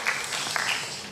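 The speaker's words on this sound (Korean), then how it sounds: "박수 주세요" A church congregation at a Korean Sunday worship service bursts into applause, a brief dense patter of many hands clapping at once, close and fairly loud.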